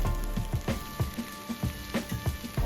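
Bitter gourd slices sizzle in a pan with chili powder and turmeric, with a steady frying hiss broken by soft rhythmic scrapes and stirs roughly every half second.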